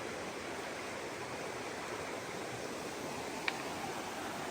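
Creek water rushes steadily at a trail crossing in the Wilson Creek area of North Carolina, a continuous broadband wash close by, with one brief sharp click near the end.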